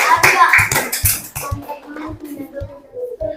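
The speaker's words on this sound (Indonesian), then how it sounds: "Iya, tepuk tangan." Pupils in a classroom clap their hands in a quick run of sharp, uneven bursts, and the clapping fades into light children's voices and small knocks near the end.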